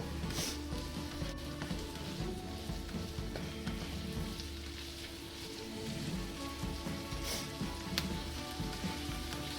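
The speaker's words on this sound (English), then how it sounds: "we're starting to hear a little bit of a sizzle here" Food sizzles in a frying pan during home cooking for a dairy-free spanakopita, a steady close crackle and hiss with occasional louder pops throughout and no talking.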